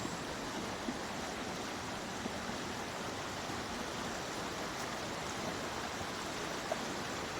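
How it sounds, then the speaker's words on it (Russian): A rushing stream on Lombok is waded across on foot, giving a steady, dense roar of churning water that stays close and even throughout, with no voices. "Сейчас мы переходим реку."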